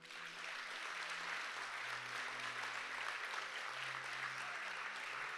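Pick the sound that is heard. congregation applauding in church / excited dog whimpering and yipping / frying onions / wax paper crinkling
congregation applauding in church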